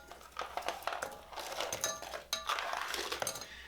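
Brussels sprouts and garlic tumble into a cooking pan with clinks and light rattling knocks, close and fairly quiet.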